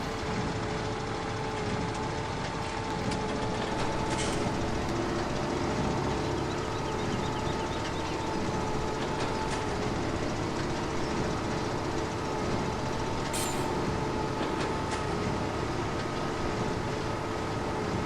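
A Valtra tractor hauls a hay baler and trailer together, its engine a steady, heavy drone heard close and unbroken throughout, with faint mechanical clicks and rattles on top and no voices.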